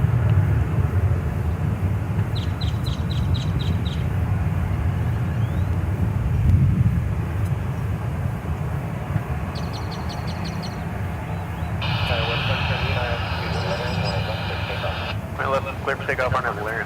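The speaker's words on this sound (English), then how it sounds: "Clear for takeoff on Emirates, 638." An Emirates jet airliner taking off at DFW Airport roars steadily in the distance, a constant low rumble, while people talk and radio chatter comes through over it.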